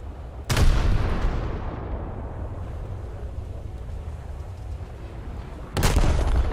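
Two heavy booms from a warship's secondary battery guns in a naval combat video game, one near the start and one near the end, each a sharp loud blast with a rumbling tail over steady wind and sea noise.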